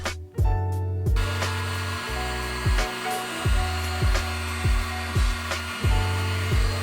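A $10 Harbor Freight heat gun blows with a steady, close electric roar while its motor pulses in a slow, regular throb, used to warm and lift sound deadening from a BMW E92 M3 track car interior.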